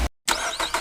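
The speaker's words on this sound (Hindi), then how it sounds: "किसी गाड़ी के इंजन की आवाज।" A vehicle engine on a road at night in thick fog, heard as a short loud burst after a brief silence, with rough mid-range rumbling that swells twice.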